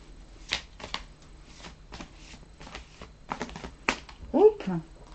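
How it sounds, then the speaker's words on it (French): Tarot cards being shuffled by hand during a reading, a series of short crisp riffles and snaps at close range with a soft voice briefly speaking near the end. "Je m'en vais de ce pas tirer les cartes."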